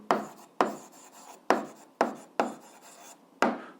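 Pen or pencil strokes on paper while working an 8th-grade algebra exercise, six separate scratchy strokes, each with a sharp start that fades, close and fairly loud, with no voices.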